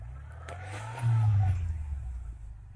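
A homemade tractor powered by a VAZ car engine, autumn ploughing a field, idles with a low rumble, then revs up sharply for a moment before settling back to a steady throb.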